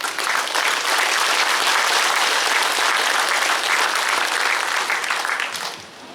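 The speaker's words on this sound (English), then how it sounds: "give them a real nice round of applause" The crowd at a livestock sale gives the breeders a long, full round of loud applause, a thick continuous roar of clapping that fades out near the end.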